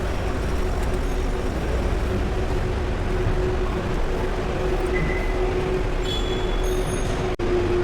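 Metro train near Chennai airport, a steady broadband rumble of rolling rail traffic with a faint squeal of wheels late on, constant and moderately loud without voices.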